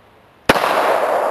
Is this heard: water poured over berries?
no